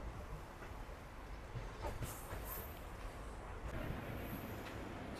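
Passenger train pulling out of Bhatkal station after a one-minute halt, a faint broad rumble of rolling wagons with a few soft clacks and hisses, no talk.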